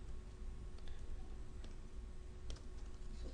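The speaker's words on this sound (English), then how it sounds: "we will just type" Keys tap on a computer keyboard during code entry, quiet and irregular clicks over a steady low hum, with a couple of sharper keystrokes standing out.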